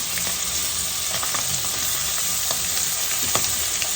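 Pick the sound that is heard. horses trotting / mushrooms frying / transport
mushrooms frying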